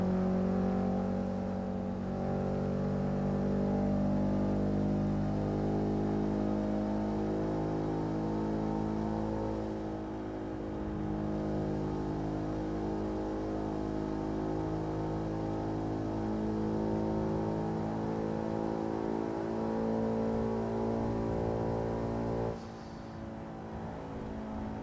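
A car engine in Assetto Corsa, a five-gear car reaching about 200 km/h, revs steadily and climbs through gears with brief dips at each shift, loud and continuous for over twenty seconds, easing off at the end.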